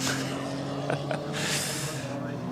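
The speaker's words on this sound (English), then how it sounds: "So here's the Mercedes coming through." A Mercedes race car at the Nürburgring 24h Classic race passes by, heard as a faint, distant engine swell that rises and fades under steady background noise.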